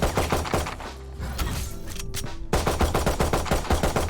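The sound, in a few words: gunfire in the video game Valorant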